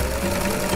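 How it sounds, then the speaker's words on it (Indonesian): A voice-controlled sewing machine runs with a steady, fast mechanical whirr and hum, close and loud in a brief burst with no talk over it. "Mesin jahit, mulai."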